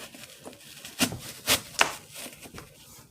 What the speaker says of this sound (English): you're going to place your apple on your cutting board, and you're going to just basically core your apples